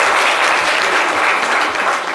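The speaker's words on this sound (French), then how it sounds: "applaudissez pour Ndotré" Loud, dense applause from an audience, a continuous wash of many hands clapping close by, with no voices standing out.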